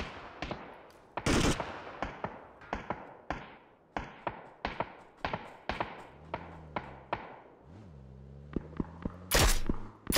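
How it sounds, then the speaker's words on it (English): Rapid bursts of gunfire from a computer-controlled bot in PUBG, sharp repeated cracks in an uneven rhythm over about ten seconds, with a louder close blast near the start and end and a low engine hum underneath. "Robot shooting me."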